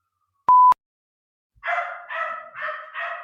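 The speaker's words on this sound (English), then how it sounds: "Dogs and sirens." Dog in a New York apartment barking four times in a steady run of sharp, mid-pitched barks, close by and clear, after a short electronic beep.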